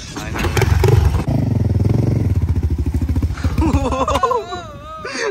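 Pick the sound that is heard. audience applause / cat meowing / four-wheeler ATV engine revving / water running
four-wheeler ATV engine revving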